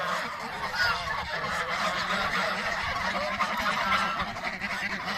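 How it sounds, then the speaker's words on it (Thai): A flock of geese being fed in Shenyang, China, honking continuously and loudly, many overlapping calls forming a busy, noisy chorus. "แล้วก็ได้มาให้อาหารน้องห่านด้วยค่ะ เยอะ มากๆ แล้วแบบเสียงเจียวเจ้าสุดๆ"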